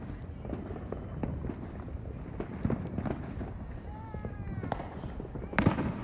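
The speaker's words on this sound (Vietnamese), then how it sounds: "Đó, pháo bông. Đó, pháo bông." Fireworks bursting at a July 4th celebration, a series of distant pops and crackles at irregular intervals, with whistling rising streaks and a louder cluster of bursts near the end.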